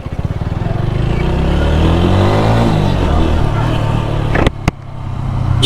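A modified 4V motorcycle engine revs hard and close during a test ride, its loud droning note climbing and falling steadily, with a couple of sharp clicks near the end.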